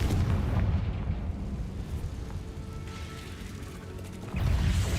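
Confringo spell blast in the video game Hogwarts Legacy, a loud rumbling explosion that decays and then swells again with a second heavy burst near the end.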